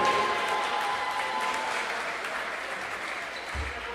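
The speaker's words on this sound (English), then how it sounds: "Let's get a round of applause for Joey Brown, the fourth." Crowd in a college gym applauding during a men's basketball senior ceremony, a steady even wash of clapping that fills the whole stretch at moderate distance.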